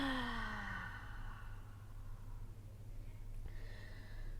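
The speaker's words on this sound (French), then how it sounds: "Expirez tout l'air par la bouche." A long, audible cleansing breath is pushed out through the mouth during a hip and hamstring stretching session, a soft, drawn-out sigh over steady low background tones.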